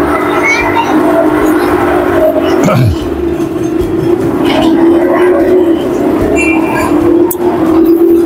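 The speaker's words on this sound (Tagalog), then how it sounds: "Train." A train ride rumbles steadily past at Sky Ranch, an amusement park in Tagaytay, a continuous low drone with a brief sweep partway through, while people talk and chatter in the background.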